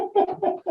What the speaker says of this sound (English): There's a bird outside the window.